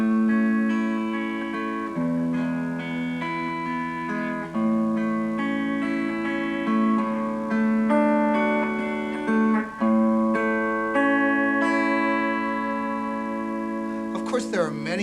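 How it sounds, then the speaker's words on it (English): Guitar arpeggios picked with the individual fingers so each chord note rings separately, a steady flowing stream of sustained notes over a low bass, close and even for about fifteen seconds. "Arpeggios are strums that are drawn out by playing with the individual fingers so that every note of the strum is heard individually."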